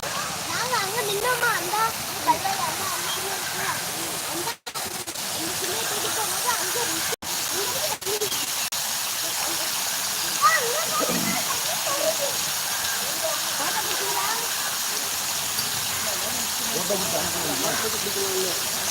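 Waterfall near the Elakurichi Adaikala Matha church in Ariyalur, a steady rushing hiss of falling water that holds evenly throughout, with voices talking over it.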